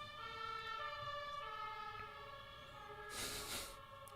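An ambulance siren wails as a steady, fairly faint tone with rich harmonics, heard from a distance alone without talk, joined by a brief burst of broadband noise near the end.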